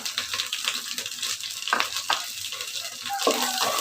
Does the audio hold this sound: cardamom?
yes